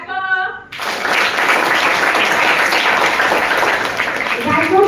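Applause from a classroom of students, a burst of dense clapping that starts suddenly after a short spoken line and carries on steadily for several seconds, with a voice returning near the end.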